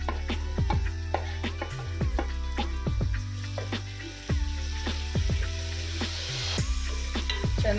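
Tomato and onion with turmeric fry in a pan for a sambar, a loud, close sizzle layered with rapid, repeated spoon scrapes and knocks against the metal, steady throughout with a brief dip midway.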